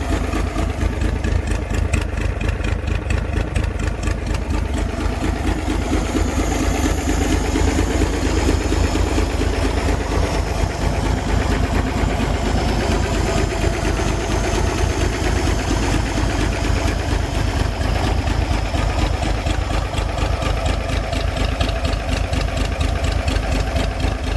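A 1962 Chevy K20 truck engine idles steadily up close, a loud continuous low rumble with fast rhythmic pulsing and a faint uneven skip, no voices over it.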